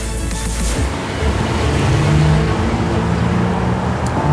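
A 2019 Mercedes GLC 300 with a new 2-liter petrol engine and 48-volt EQ boost, accelerating with a loud, steady engine drone and road rush, heard from inside the car.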